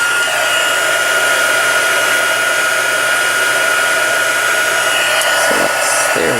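A heat tool for heat embossing blows hot air in a loud, steady, close-up whoosh with a constant whine that holds unbroken throughout, with a couple of faint clicks near the end.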